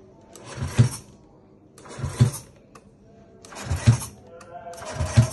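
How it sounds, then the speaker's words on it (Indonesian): A Honda Vario motorcycle's electric starter on a low battery cranks weakly in four short, evenly spaced bursts, each a strained whir that fails to catch. "Jadi ketika gue starter cuma jelek."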